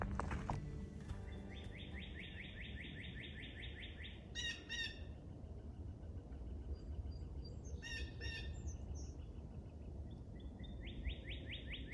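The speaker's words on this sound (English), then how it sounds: "Listen to those birds singing." Songbirds chirp and trill in repeated bursts through woodland on a quiet camping day, several calls overlapping against a steady low background hiss, fairly close and clear.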